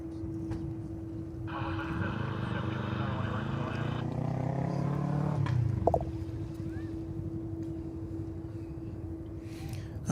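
An Airbus A340 passing by at Dallas/Fort Worth Airport, a rising jet engine whine and roar that swells over several seconds then fades, distant and steady under a constant low hum.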